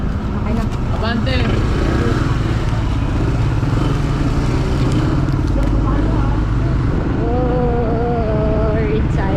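Several motorcycles, four in a group, ride in a steady broadband engine drone through busy city traffic, with people talking over the continuous rumble.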